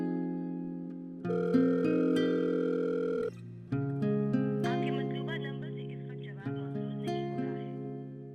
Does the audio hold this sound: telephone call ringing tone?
yes